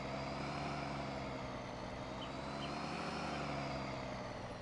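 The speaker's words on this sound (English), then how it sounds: "Wow, this truck is just having a hard time." A heavy truck engine in Farming Simulator 19 labours and drones steadily under strain, a constant dense rumble that runs the whole stretch with no voices over it.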